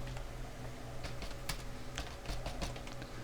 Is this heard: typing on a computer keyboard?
yes